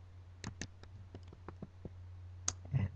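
Computer keystrokes typed one at a time, sharp separate clicks in an irregular rhythm with a few brief pauses, close and fairly quiet over a steady low hum, with a cluster of busier clicks near the end.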